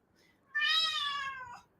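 A cat gives a single clear, drawn-out meow lasting about a second, close and loud against a quiet room.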